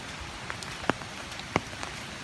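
Rain falls on a rainy day in upstate New York: a soft steady patter with a few distinct louder drops landing near, heard alone with no voices.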